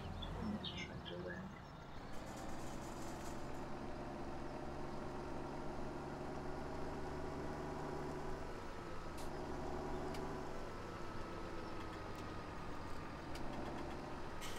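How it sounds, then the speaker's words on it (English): Steady low engine drone from a tractor in Farming Simulator 17, running continuously at a constant pitch and fairly loud throughout, with faint talk mixed in. "Put this tractor there."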